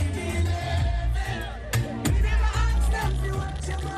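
Dense crowd at Notting Hill Carnival, a loud wash of many voices with shouts and cheering bursts rising and falling, close and busy throughout.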